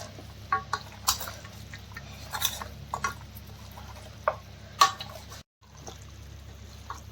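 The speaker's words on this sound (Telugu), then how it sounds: "మంచిగా మిక్స్ చేసుకోవాలి మంచిగా కలుపుకోవాలి" Mutton being mixed by hand with coriander powder, ginger and spices: soft wet squelches and scattered clicks come in irregular bursts over a low, quiet background, with a brief dropout near the end.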